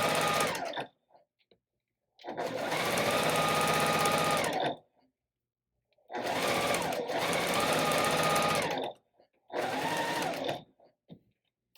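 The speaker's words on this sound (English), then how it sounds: "This is called chain piecing, where I don't even break thread in between the two pieces." A sewing machine stitches quilt fabric pieces one after another without breaking thread, running in four loud, steady bursts of rapid stitching separated by short pauses.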